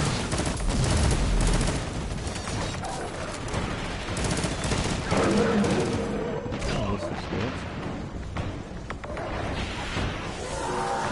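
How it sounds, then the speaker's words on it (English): A shotgun in Destiny 2 that fires fast short bursts sounds through dense, continuous rapid gunfire amid other in-game combat noise, loud and sustained across the whole stretch, with a voice talking in places. "That shotgun is not really a shotgun. It's almost like a very, very fast pulse rifle, a repetition weapon with short bursts"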